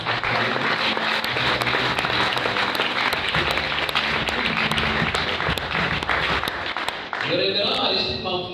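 An audience at a seminar opening applauds a reverend being introduced, loud sustained clapping with a voice talking over it, ending in a burst of hand claps.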